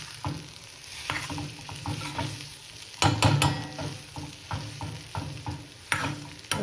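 Capsicum and gram flour (besan) sabzi is stirred in a pan, with repeated scraping strokes over a low sizzle and a louder burst of stirring near the middle, with no talking.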